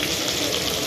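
Water pours into chicken masala cooking in a pan, a brief, loud, close gush of liquid splashing in, with no talking.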